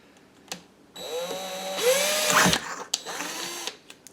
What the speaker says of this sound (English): First I'm gonna drill a hole.